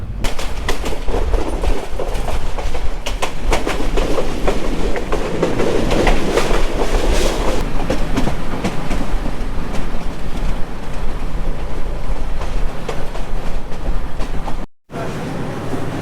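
A passenger train runs on rails between Mymensingh and Cox's Bazar, heard from inside as a loud, continuous rumble and rattle with rhythmic clickety-clack. Near the end it cuts out for a moment.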